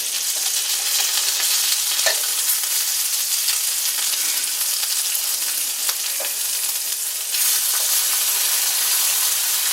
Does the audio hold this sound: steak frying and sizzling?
yes